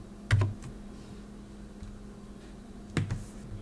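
A terminal command typed on a computer keyboard, heard as two short, crisp bursts of key clicks about three seconds apart in a quiet room.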